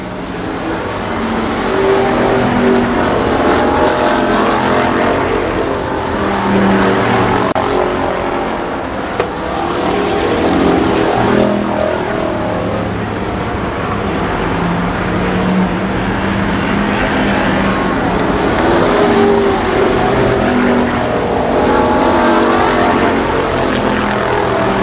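Race cars at Columbus Motor Speedway in 1993 roar continuously around the track, engine drone swelling and fading as packs pass, loud and sustained with a public-address voice faintly under it.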